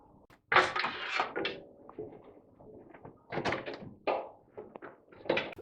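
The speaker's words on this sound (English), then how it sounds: "And all we have to do is remove each clip." Plastic corner clips pried off an oven door seal, giving a few sharp clicks and thunks at irregular moments with quieter handling noise between them, close and fairly loud.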